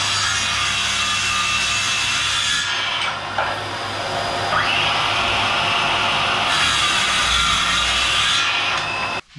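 A cordless 18V circular saw cuts through 30 mm beech glulam, giving a loud, steady rasping whine that runs almost unbroken for about nine seconds, with brief shifts in pitch as the blade works through the wood.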